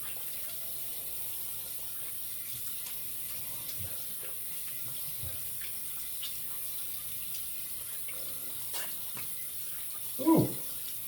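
Tap water runs to rinse a freshly shaved head, a faint, steady hiss throughout, with a brief louder splash or bump near the end.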